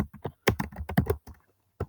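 Rapid, uneven clacking of keys on a computer keyboard, a burst of close, crisp taps with a short pause before a final keystroke, with no voices.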